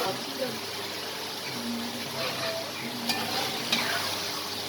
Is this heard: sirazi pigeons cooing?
no